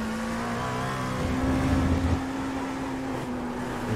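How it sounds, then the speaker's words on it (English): Race cars passing by on a track in a racing video game, a sustained engine drone with a brief louder swell as one goes past, no talking. "You can hear the cars go by there."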